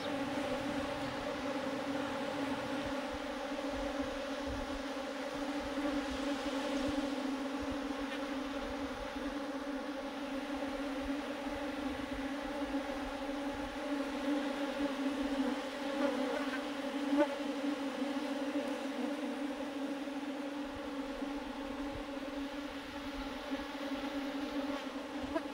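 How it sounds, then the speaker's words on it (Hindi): Honeybees swarm inside a bucket, giving a dense, continuous, close buzzing drone that holds steady throughout with slight swells in intensity. "देखिए काफ़ी ज़्यादा है मक्खियाँ ना इसमें, अब वो छोड़ नहीं रही है बाल्टी को"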